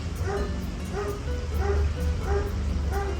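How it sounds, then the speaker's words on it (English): A dog barks repeatedly at a steady rhythm, roughly every half second, somewhat distant over a low rumbling background. "I'm not sure what is wrong with this barking dog"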